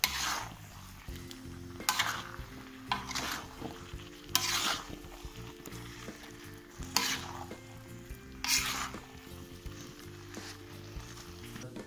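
Ginaru pote mixture fries in a pan, constant sizzle broken by about six bursts of vigorous stirring and scraping spaced a couple of seconds apart, close and clear, no speech.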